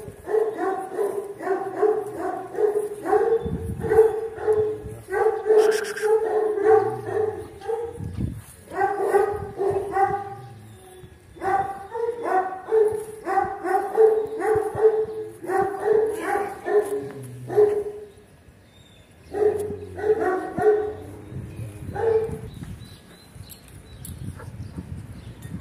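A Turkmen Alabai wolfhound barks in repeated loud, deep volleys, the barks bunched into quick runs separated by short pauses and joined by occasional yips and whimpers, over faint outdoor background noise.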